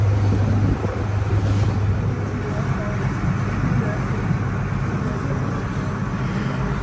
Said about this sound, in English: nice sail across the water, bouncing across the waves